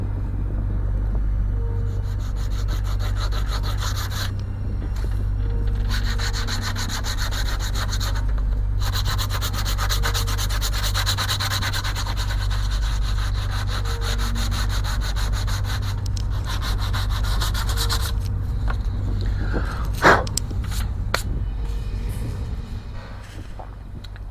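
Sandpaper rubs steadily over the wooden hull planks of an OCCRE Flying Dutchman 1:50 scale model ship kit, a continuous close scratchy rasp in back-and-forth strokes over a low rumble, with a sharp tap near the end.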